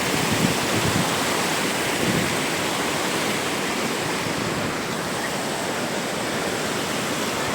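Water pouring over the Papanasam headworks dam, a loud, steady broadband roar that holds unchanged throughout with no voices.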